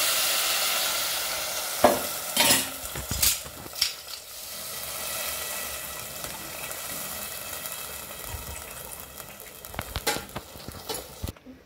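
Food is mashed and strained in a bowl, close up, with irregular wet squishing and scraping punctuated by sharp clinks and knocks of the utensil against the bowl.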